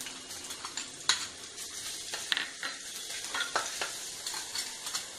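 Green chillies and ginger frying in hot oil, a steady sizzle broken by scattered sharp clinks and scrapes of a utensil stirring the pan, close and fairly quiet with no voices.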